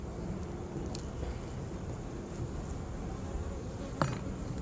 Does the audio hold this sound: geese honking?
no